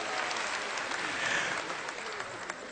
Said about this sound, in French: Applaudissez pour monsieur le gouverneur